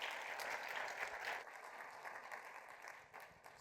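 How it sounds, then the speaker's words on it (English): An audience claps at a tech demo day, a dense burst of applause that is loudest at first and then thins and fades over a few seconds. "A big round of applause."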